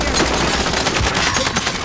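Dense, continuous gunfire in Call of Duty Warzone, loud rapid shots blending into a steady barrage throughout the short stretch.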